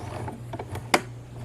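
A compact portable sewing machine's mechanism turns with the needle moving down and up, giving a brief run of soft mechanical clicks and one sharper tick.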